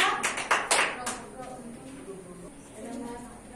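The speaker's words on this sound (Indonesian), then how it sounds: "kita beri aplaus untuk kelompok 2" Classroom applause for a group presentation: a short burst of clapping from several hands in the first second or so, fading quickly, with background chatter and voices continuing afterward.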